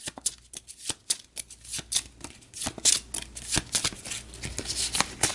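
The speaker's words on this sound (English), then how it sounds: "we shuffle the card back in" Cards being shuffled back into a deck for a tabletop wrestling game, a quick run of crisp riffling flicks and slaps up close, no talking over it.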